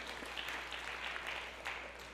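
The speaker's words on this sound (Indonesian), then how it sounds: "Berikan tepuk tangan yang meriah buat Tuhan." Church congregation clapping during a worship service, a sustained round of applause heard from a distance in a large room, with no talk over it.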